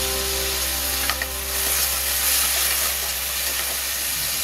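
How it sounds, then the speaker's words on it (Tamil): Onion, tomato and coriander leaves are stirred in a frying pan for Chettinad chicken chukka, a loud, steady hissing sizzle over a low, constant hum, with no voices. "இதோட நம்ம எடுத்து வச்சிருக்க மல்லி இலையும் போட்டு நல்லா கிளறி விட்டுடலாம்."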